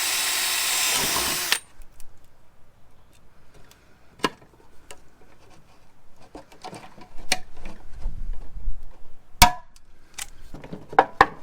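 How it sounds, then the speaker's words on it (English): A power drill bores rivet holes into a pickup truck bed storage mod, giving short sharp bursts and clicks with gaps between them after a loud opening whir, with no talking. "next I'm gonna drill some holes, put some rivets in"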